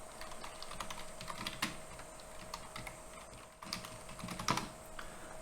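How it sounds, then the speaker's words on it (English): Steady typing on a computer keyboard during an SSH session, a quiet, continuous patter of clicks with a few firmer keystrokes, no speech. "I'm going to be typing a lot of this"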